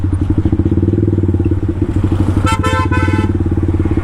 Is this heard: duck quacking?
no